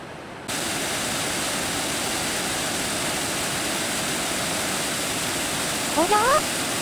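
Steady broadband rush of a clear mountain river flowing past, continuous and fairly close, with a brief whistling call near the end.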